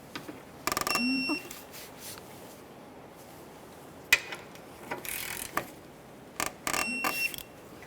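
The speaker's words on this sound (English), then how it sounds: "Start in both of your mounting bolts by hand, snug them up, and then torque those to 65 foot-pounds." A ratchet tightens the brake caliper mounting bolts on a 2011-2020 Toyota Sienna rear brake, in short irregular bursts of clicking and metallic handling, close and fairly quiet, with pauses between.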